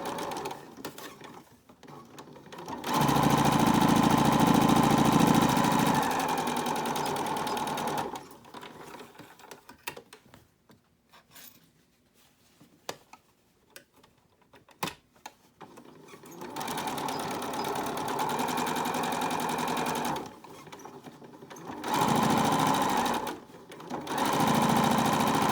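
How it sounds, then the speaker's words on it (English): A home sewing machine top-stitches a fabric face mask in loud bursts of steady motor whirring, with a long quieter pause in the middle before the stitching resumes in shorter runs. "get it right underneath there and just sew really close to your seam"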